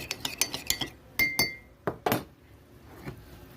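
A metal spoon clinks repeatedly against a glass or bowl while flour is stirred into water as a thickener for spicy tofu, a quick run of close, bright taps followed by a few scattered strikes.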